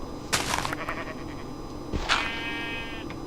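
Sheep bleating in a video game: a soft thump and rustle, then one clear, wavering bleat drawn out for about a second, close and moderately loud with no talk.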